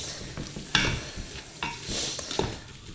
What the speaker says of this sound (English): we are going to put all of our grated veg into the pan. So that's that really. So we're going to give it a good stir.